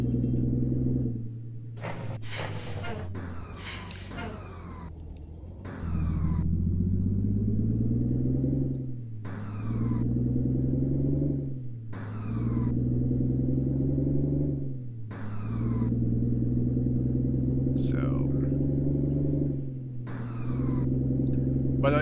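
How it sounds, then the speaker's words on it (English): Heavy truck in Euro Truck Simulator 2 with an 18-speed gearbox, engine droning loudly and repeatedly dropping away then surging back as gears shift every couple of seconds, with a few sharp hissing bursts early on. "Getting the gearing right on this truck's a pain."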